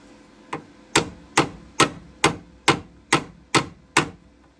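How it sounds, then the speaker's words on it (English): A hammer tapping on a car body panel during metal repair, nine evenly spaced, sharp metallic knocks at a steady rhythm, close and clear with brief ringing after each strike. "Get our hammer and we can just gently bring that in."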